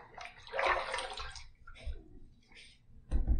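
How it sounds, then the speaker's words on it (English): Water is splashed onto a head during a wet head shave, making a brief watery spatter and trickle, followed by a softer splash and a thump near the end. "I'm going to throw a little bit of water on my head,"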